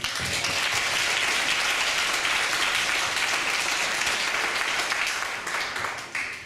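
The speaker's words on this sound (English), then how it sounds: "let's give them all one big round of applause" Steady audience applause during a student internship presentation, continuous clapping from a crowd that holds level and eases slightly near the end.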